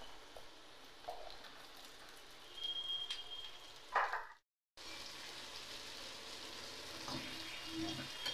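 Ridge gourd and boiled potato frying in a pan, with a soft, steady sizzle that continues throughout, broken by a brief silent gap near the middle.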